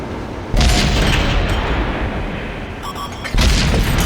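A tank cannon fires in World of Tanks, a loud booming blast that cuts in abruptly and rumbles on, followed by a second heavy shot near the end over continuous battle noise.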